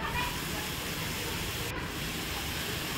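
Onion and green chilli fry in hot mustard oil in a heated kadai, giving a steady, loud, continuous sizzle and hiss that holds evenly throughout with no talking.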